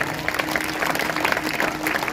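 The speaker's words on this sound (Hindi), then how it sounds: "अगर आया तो अपने जोरदार तालियां बजाना।" A congregation at a Hindi-language Christian sermon claps loudly, a dense and steady applause that fills the whole stretch without a break.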